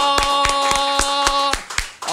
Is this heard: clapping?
yes